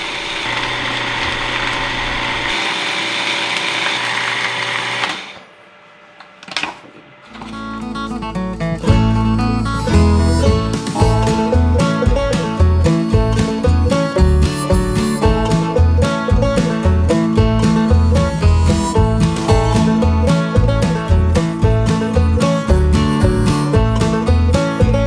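A food processor whirs while mixing dry bannock ingredients, with a steady motor hum at first, a brief pause, then a loud, choppy, pulsing spin that continues to the end, close up with no talking.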